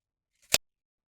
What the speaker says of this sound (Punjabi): ਆਪਾਂ ਪਾਈਪ ਨੂੰ 16 ਇੰਚ ਦਾ ਪੀਸ ਇਹਦੇ ਚੋਂ ਕੱਟ ਲਾਂਗੇ